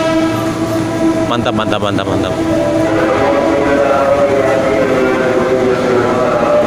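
A train rumbles steadily past at Manggarai station, with a brief horn blast early on, loud and near, and a person speaks a word over the noise.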